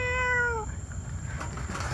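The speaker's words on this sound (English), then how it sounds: "It's a cat." A cat caught in a neighborhood trap lets out one loud, close, drawn-out meow that fades into quiet hiss and background noise.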